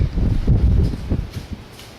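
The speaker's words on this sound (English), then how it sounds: "it's so windy outside today, it's just crazy." Low rumbling wind buffets the microphone in uneven gusts, with soft rustling outdoors and no voices.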